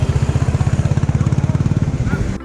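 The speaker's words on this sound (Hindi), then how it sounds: "तू बाइक छोड़, धीरे से छोड़ ना, तू देखना पिकअप क्या है इसका" A Royal Enfield Classic motorcycle's single-cylinder engine thumps in a steady, close, loud rhythm as the bike pulls away, the beat holding for about two seconds before cutting off abruptly.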